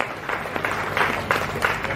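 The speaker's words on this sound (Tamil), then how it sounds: "நல்ல ஒரு கைத்தட்டல்." An audience claps at a Carnatic music concert given by the young sisters Chitra and Lakshmi. The applause is steady and fairly loud, with a crowd of hands clapping together and rising in a few brief swells, and no voices on top.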